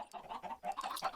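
Chickens on a chicken farm in a video game cluck in quick, overlapping bursts, soft and fairly close, forming a continuous busy chatter without talk.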